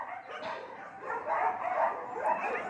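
Several dogs yip, whine and bark faintly in the distance, a muffled, overlapping chorus of small canine voices.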